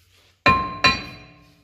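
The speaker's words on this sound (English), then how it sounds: "You're gonna hit it with a hammer." A hammer strikes a front brake rotor from a Mercedes S300 twice, each blow a sharp metallic clang with a ringing decay, close and alone.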